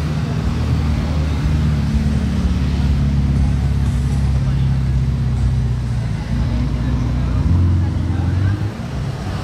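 A Novitec-tuned supercar drives through the streets of Monaco, its loud engine drone steady and close throughout, with low rumbling traffic noise around it and a voice talking over the top.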